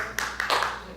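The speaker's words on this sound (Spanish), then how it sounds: "Fuerte aplauso ahí para entonces." Brief applause from a church congregation during a Bible study, a few scattered claps rising into a short burst that fades quickly, faint and near.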